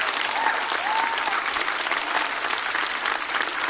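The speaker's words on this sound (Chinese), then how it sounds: "掌声送给小四爷，加油！" A studio audience at a stand-up comedy show applauds, dense sustained clapping close up that fills the whole moment without pause.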